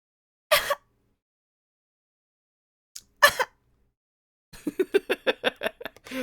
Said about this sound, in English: Are you ready for me to clear my throat?